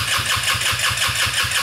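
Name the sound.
go-kart rear engine being started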